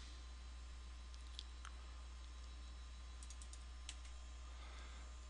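Soft, sparse mouse clicks while working in the UDK editor, a few quick taps including a double click, quiet over a steady low hum.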